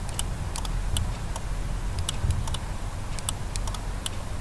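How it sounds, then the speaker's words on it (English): A VW Mk4 Golf central lock actuator, triggered by a keyless entry remote during installation, gives off scattered light irregular clicks over a steady low hum, close by and with no talking. "This is the sound of the contact inside, and the coil which is pulling them."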